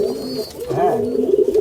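Fancy pigeons from Uttar Pradesh, including a Mattas-type bird, give low, rolling coos in repeated swelling phrases, near and fairly loud, with little else around them.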